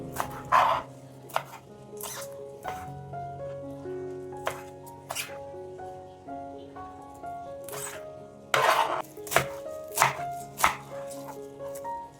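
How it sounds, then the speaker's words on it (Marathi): A knife finely chops fenugreek leaves, giving sharp, irregular taps on a cutting board that come in short bursts over soft background music. "आता ही मेथी थोडी थोडी करून एकदम बारीक आपण चिरून घेणार आहोत"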